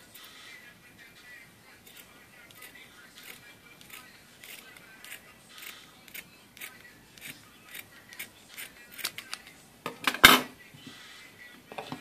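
Scissors cutting fabric to trim a French seam, a run of quiet, regularly spaced snips with a louder clatter near the end, with no talking.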